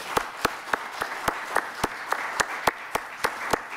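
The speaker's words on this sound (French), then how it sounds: "je vous propose de terminer en applaudissant et en remerciant vivement Madame Dieudonné." Sparse, evenly spaced claps ring out one at a time, a lone pair of hands or a very thin audience, marking thanks to author Adeline Dieudonné at a literary event in Lyon.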